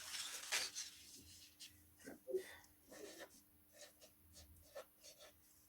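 A metallic felt-tip marker squeaks and rubs across paper in a few short strokes, faint and close, with pauses between them.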